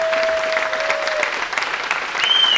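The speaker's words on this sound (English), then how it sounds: "Can we give his team a round of applause?" A short burst of audience applause for a team at an adventure travel event, dense and moderately loud, with a faint tonal whine over it.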